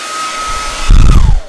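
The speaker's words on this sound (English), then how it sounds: "It is a blow dryer, not a Hoover." A blow dryer runs with a steady whirring hum, then a louder, rougher burst of airflow and rumble before it fades, close and fairly loud, with no speech.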